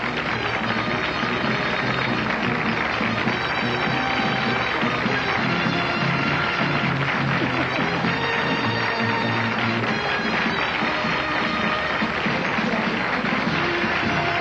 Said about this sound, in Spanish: Recibe este aplauso en vivo y en directo a través de la cámara de Venevisión